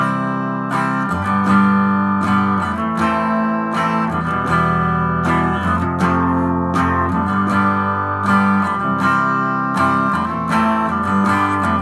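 Strummed guitar chords from the chorus of a song play continuously in a steady rhythm, full and sustained, with no talking.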